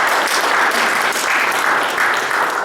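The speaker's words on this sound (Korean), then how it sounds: "서로에게 우리 격려의 박수 한번 드렸으면 좋겠어요" A Korean church congregation gathered in person for Sunday worship in El Centro gives a round of applause, loud, even clapping that swells in gentle waves and carries on steadily without speech.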